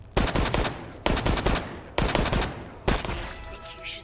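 The Matilda gun firing in Resident Evil Resistance, four loud, evenly spaced bursts of rapid close shots, each followed by a short ringing tail.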